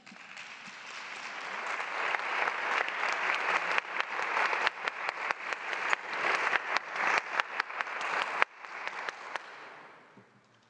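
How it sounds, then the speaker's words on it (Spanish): Strong applause for a speaker at a national oratory contest, building into steady crowd clapping with distinct sharp claps, cutting down abruptly and then fading to quiet. "Un fuerte aplauso para él"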